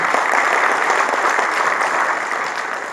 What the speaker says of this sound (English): can we have a big round of applause for the time?